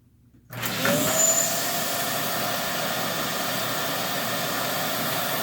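Vacuum pump sucking air out of a Mylar bag of rice for long-term food storage, switching on abruptly with a close, loud, steady whining roar that holds without talking.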